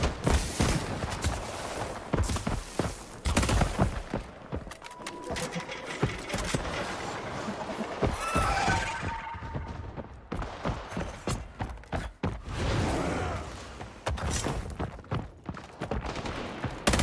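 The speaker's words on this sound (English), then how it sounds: "They're shooting at me." Bursts of video game gunfire rattle in clustered rapid volleys, loud and close, broken by short lulls and mechanical clatter, running on and off throughout a long, busy stretch of combat.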